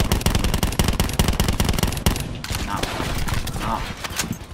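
Rapid bursts of submachine gun fire in Call of Duty: Black Ops 4, dense and loud over the first half, followed by more scattered, distant-sounding gunfire and game noise.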